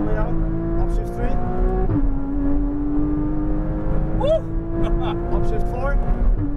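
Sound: Porsche Cayman GTS accelerating on race track

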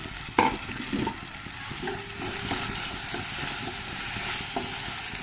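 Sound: chopped tomato added to onion frying in a pan

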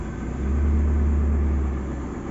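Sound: Daihatsu Zebra Espass car engine starting

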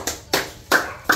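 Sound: applause

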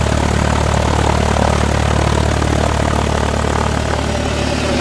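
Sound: propeller aircraft flying overhead, a flying bookmobile

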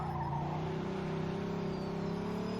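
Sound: loud car engine in the video game Mafia 2

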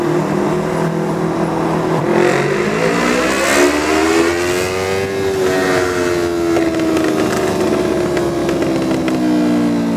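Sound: Kawasaki Vulcan motorcycle engine revving

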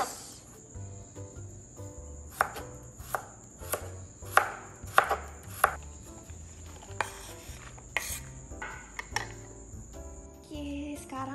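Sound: chopping food thinly with a knife

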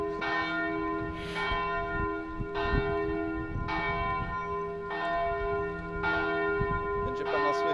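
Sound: church bell ringing

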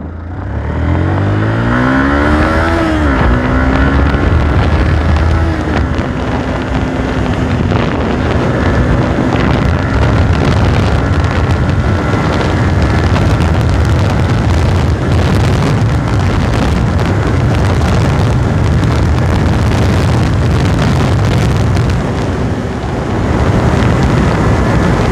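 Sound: sport motorcycle launching and accelerating through gears

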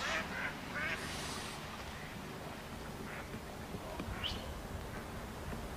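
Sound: ducks quacking by a duck pond

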